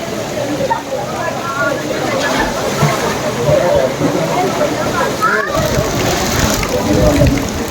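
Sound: water splashing as group members swim in river

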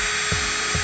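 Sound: MelodySusie electric nail drill running

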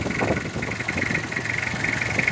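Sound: car engine idling after fan belt replacement

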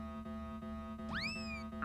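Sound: cat meowing in Looney Tunes: Back in Action video game

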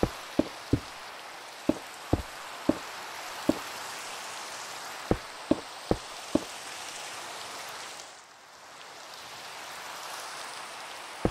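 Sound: rain in the video game Minecraft

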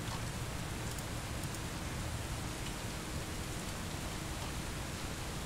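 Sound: rain in video game Bus Simulator 18

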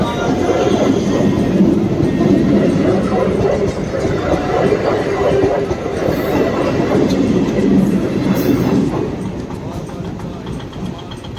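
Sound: train passing at speed

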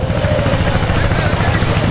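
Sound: fishing trawler boat engine

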